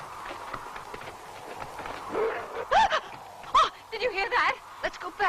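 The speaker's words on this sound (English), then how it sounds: "It's just the dogs." Dogs whimper and bark in a deserted, eerie outdoor setting, with high whining cries and sharp yelps that come in bursts and grow louder and busier toward the end, mixed with faint voices.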